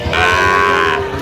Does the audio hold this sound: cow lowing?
yes